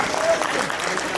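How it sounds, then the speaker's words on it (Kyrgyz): A theatre audience at a closed film screening gives a short, dense burst of applause for an actress, with a voice speaking over the clapping. "Айлинге бир кол чаап берди."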